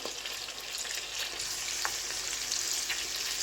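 Peshawari chapli kababs fry in a pan, a continuous close sizzle and crackle of hot oil with a few faint spatters, steady throughout and no voices.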